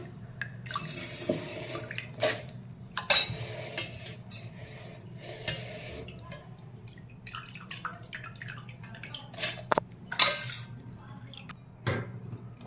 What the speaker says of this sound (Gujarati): હવે આ દાળને આપણે મિક્સર જારમાં લઈ લઈશું